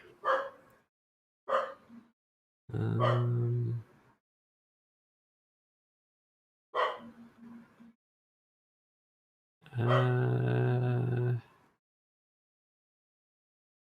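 A dog gives several yips and then long, drawn-out growling barks with a strong low tone, separated by silent pauses, moderately loud and heard alone.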